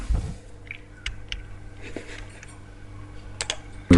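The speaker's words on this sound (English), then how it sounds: "We'll hit F9 on the keyboard to render the view so we can see what it looks like." Keys on a computer keyboard, including the F9 key, are pressed, giving a few sparse, sharp clicks close by, separated by quiet gaps over a faint background hum.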